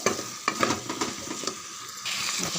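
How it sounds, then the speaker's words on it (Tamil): Chicken for biryani is stirred in a hot pan, with close scraping strokes and a bright, steady sizzle of frying, and no voices. "சிக்கனை நல்லா கலந்து விடுங்க."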